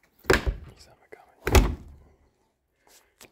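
A vintage 1960s Polish car in a museum has its door shut twice, each a solid, close thunk with a short latch click, with pauses and quiet surroundings between them.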